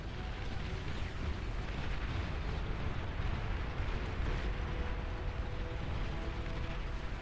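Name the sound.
nuke explosion in a video game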